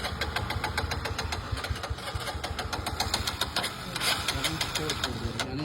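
A Vikrant V15 motorcycle engine runs close by with a steady, rapid idle and regular knocking pulses throughout, rising slightly near the end.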